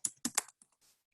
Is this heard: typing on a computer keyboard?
yes